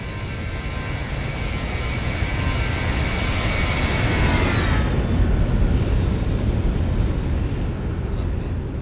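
A Boeing 737 airliner climbs after takeoff in a flight simulator. It makes a steady, loud engine roar with high whining tones that slide downward and fade, leaving a broad rushing drone.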